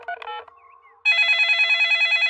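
In a cartoon, a telephone gives a few short dialing beeps and a brief tone, then rings loudly with a rapid, evenly pulsing electronic trill that continues to the end.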